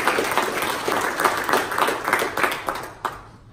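A church congregation applauds steadily during a Sunday morning service, dense clapping filling the room for a few seconds before quickly dying away.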